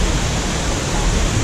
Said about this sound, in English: We're here at the first waterfall.